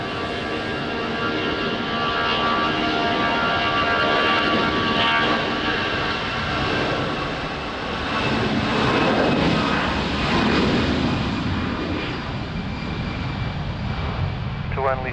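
Jet aircraft taking off on runway 20 at Lisbon Airport in rain and wind, a loud continuous broadband engine roar with a steady whine, sustained throughout, with indistinct voices faintly mixed in.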